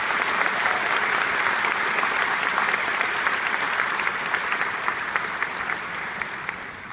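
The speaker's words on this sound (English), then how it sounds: "Let's give them a round of applause." Audience applauding at a university graduation ceremony, a broad, sustained round of clapping from a large crowd that continues for about seven seconds and tapers slightly toward the end.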